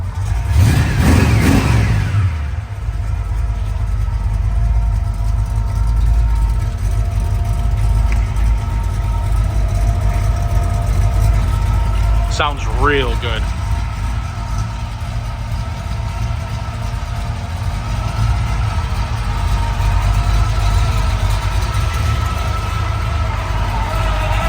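Rebuilt engine of a 1969 Chevrolet Camaro Yenko tribute with gear drive, Hooker headers and Edelbrock intake rumbles steadily at a loud idle close by, with a brief blip midway and a short spoken remark.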